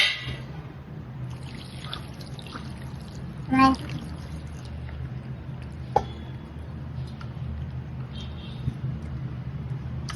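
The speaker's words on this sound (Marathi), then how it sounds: "स्वच्छ 2-3 पाण्याने धुवून घ्यायचं याला." Water pours and trickles over 1.5 kilograms of raw chicken being washed for a rustic chicken curry, a soft continuous liquid wash with a brief splash and a few small knocks.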